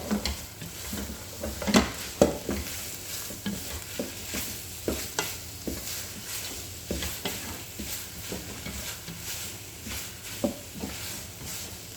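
Powdered fish is stirred in a hot pan while cooking fish powder, giving repeated scraping strokes at an irregular rhythm over a soft, continuous sizzle, close up and with no voices.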